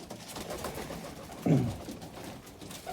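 Pigeons in a pigeon loft give one short, throaty coo burst midway, rising above a low, steady background murmur of the birds.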